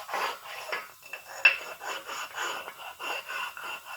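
A small block Chevy engine block surface is smoothed by hand, rubbed flat with back-and-forth strokes in a steady rasping rhythm, quiet and close with no talk.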